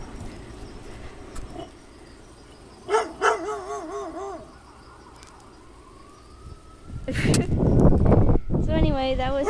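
A neighbor's dog barks somewhere nearby in a house, a few sharp barks in a short burst, then louder barking again near the end, with background noise in between.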